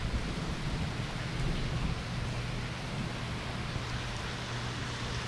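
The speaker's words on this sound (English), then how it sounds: "This is just a hard rain right now with a big wind." Heavy rain pours steadily in strong wind during Hurricane Laura in Louisiana, a dense continuous roar with a low wind rumble beneath, loud and unbroken throughout with no talk.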